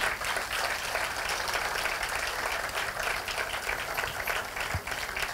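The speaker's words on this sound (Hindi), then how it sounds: "मुझे लग रहा है तालियां कुछ कम बज रही हैं।" An audience at a semi-classical dance performance claps steadily in a sustained, fairly even wash of applause, moderately loud and without pauses.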